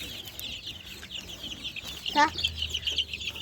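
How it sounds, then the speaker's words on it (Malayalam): Second- and third-stage chickens cluck close by, a short burst of squawking rising sharply midway, over faint background noise and a low hum. "ഇതൊക്കെ സെക്കൻഡ് സ്റ്റേജിലുള്ള കോഴികളാണ്"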